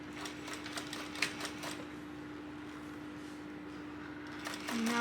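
A sewing machine runs stitching along the folded edge of a tote at a long stitch length, a quiet, rapid mechanical whirr with faint ticking that continues steadily before a brief change at the end.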